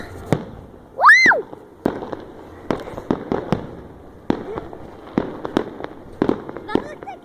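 Fireworks crack and pop on Bonfire Night, a series of sharp bangs spread across the clip, with one whistling rocket screech near the start and another near the end.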